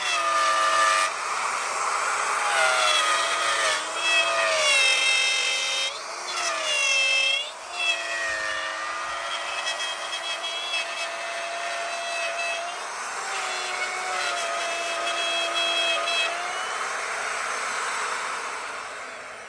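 A router cutting door templates whines steadily and loudly throughout, its pitch dipping and rising as it bites into the work, alone with no talk.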